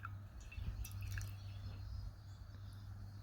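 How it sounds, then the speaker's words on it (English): A tea strainer drips a little onto a saucer, soft faint drips and trickles close by against a quiet room hum. "have a saucer nearby for your strainer because it will drip a little"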